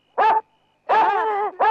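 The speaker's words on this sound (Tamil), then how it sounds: "என்ன பாட்டு பாடி நாய வர வச்சிட்ட?" A dog barks in three separate bursts, loud and close: a short bark, a longer drawn-out whining bark, then another short one, with quiet between.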